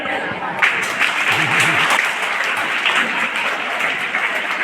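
Audience applause fills a school Kartik Purnima celebration, steady dense clapping from many hands with a voice briefly heard under it.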